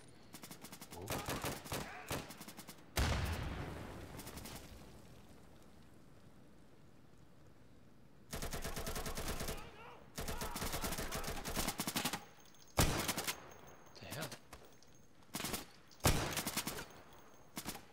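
Gunfire in the tactical shooter Insurgency: bursts of rapid automatic shots and scattered single cracks, loud and close, separated by quieter gaps, with no talking.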